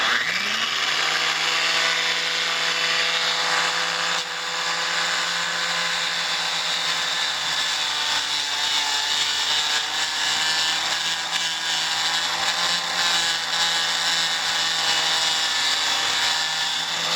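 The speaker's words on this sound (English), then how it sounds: "Let's grind this fiberglass." A power grinder works steadily on a fiberglass patch on a boat hull, giving a loud, continuous whine with a constant pitch that runs unbroken for the whole stretch.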